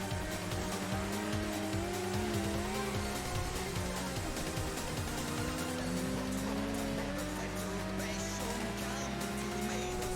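A Nissan GT-R and a Mitsubishi Evo race closely in a high-speed team battle, engines loud and constant throughout, with sweeping pitch changes as they shift gears and brief tire squeal.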